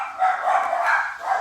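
Dogs bark in a rough, fairly loud run of yelps over about a second and a half, with no voices on top.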